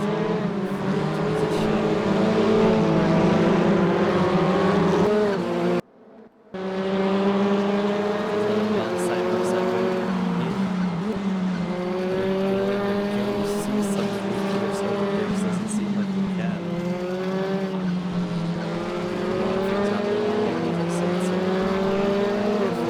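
WTCR touring cars racing side by side in a sim racing game at the Mercedes Arena section of the circuit, engines droning and shifting pitch continuously under commentary, with one brief drop to near silence.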